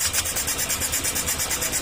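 Honda motorcycle engine starting and running, a steady pulsing throb with a rapid regular beat, close and fairly loud, with no talking.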